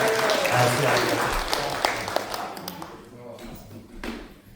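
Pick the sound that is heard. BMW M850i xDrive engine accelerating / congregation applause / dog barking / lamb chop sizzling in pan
congregation applause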